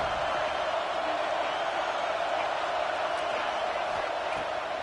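Football stadium crowd at a college game against Southern Miss, a steady dense roar that holds loud and even through the whole stretch as the defense lines up on third down.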